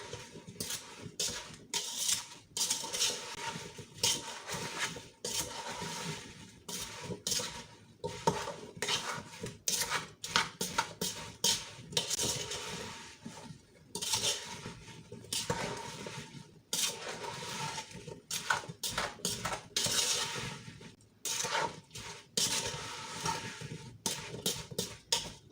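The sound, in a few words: stirring applesauce in a pot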